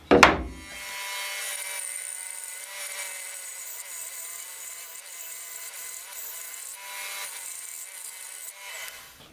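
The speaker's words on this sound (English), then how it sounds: "So there we are, 3 inches of oak ripped through without any sort of murmur really with a stock blade." Axminster bandsaw ripping through 3 inches of oak with a stock blade, a sharp thump as the cut starts, then a steady high whine and rasp of the blade running close and unbroken for several seconds.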